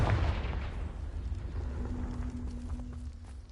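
A Confringo fire spell cast in the Hogwarts Legacy video game gives a dull, rumbling burst with a low booming tail that holds steady for a few seconds, with no talk over it.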